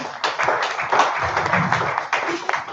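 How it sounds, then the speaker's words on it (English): Audience at an energy conference applauds its innovators with a lively round of clapping, close and fairly loud, individual hand claps distinct within the steady patter, with some voices mixed in. "A round of applause for our innovators."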